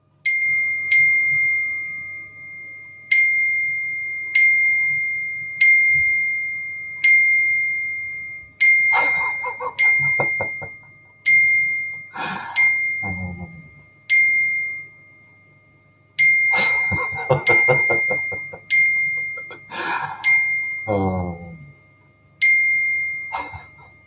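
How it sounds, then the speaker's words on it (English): A phone's notification chime dings over and over at steady intervals of roughly two seconds, a bright ringing tone, with occasional handling clatter and knocks between the chimes. "My phone is just going. If I put it on to sound, I don't know if you'll hear it."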